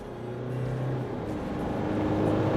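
A rear-wheel-drive Mitsubishi Triton Prime pickup accelerates on kick-down through a turn, its engine a steady, close, full drone that holds even and rises slightly throughout, with no voices.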